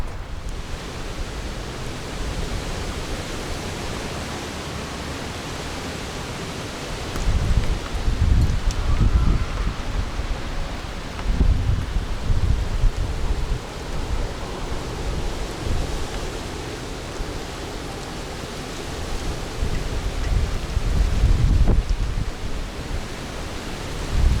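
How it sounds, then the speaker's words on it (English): Rain and gusting wind outside an RV make a broad, steady wash of noise that swells in several louder bursts, with no voices. "Man, this rain's really going to start pouring, I can tell."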